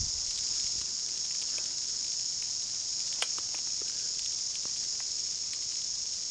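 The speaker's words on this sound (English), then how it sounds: "I reckon that the occupational safety and health need to come and tell these cicadas to wear earmuffs" A loud, steady chorus of New Zealand chorus cicadas fills the whole stretch, an unbroken high buzzing drone that stays near and intense throughout, with a few faint clicks scattered in it and no talking.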